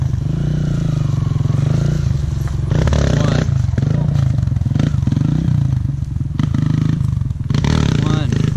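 A motorcycle engine drones loudly and steadily while the rider holds a wheelie, with clattering and rumbling over it and people talking throughout.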